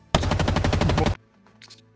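A video game weapon fires a rapid, loud burst of about a second of automatic shots in a fast, even rhythm, then cuts off, leaving faint background sounds.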